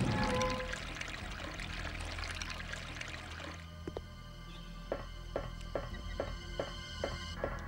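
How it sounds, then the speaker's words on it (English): Water drains from a tank in Resident Evil Code Veronica X: a loud pouring gush at first that thins to a trickle, then a series of evenly spaced echoing drips, alone without talk. "And that will drain the water tank."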